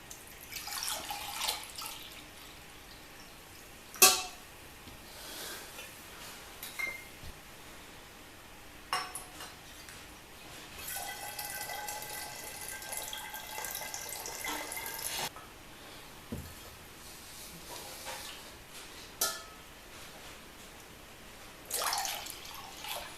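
Homemade filtered cider poured into a bottle, with soft liquid trickling and dripping, intermittent splashes and small clinks of glass, quiet and close, no talking.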